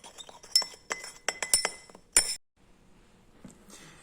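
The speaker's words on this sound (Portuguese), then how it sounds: "agitação com bastão de vidro. Importante agitar até a completa dissolução do sal na água." A glass rod clinks briskly against glassware while stirring salt into water in a chemistry lab, giving a quick run of bright ringing taps followed by a quiet pause and a few faint touches.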